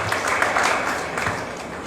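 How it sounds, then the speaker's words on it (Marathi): Audience applause in honour of Vichare sir at a ceremony marking the completion of the Sarathi cycling campaign, a steady wash of many hands clapping together, fairly loud and sustained throughout without any speech over it. "विचारे सरांसाठी आपण जोरदार टाळ्या वाजूया."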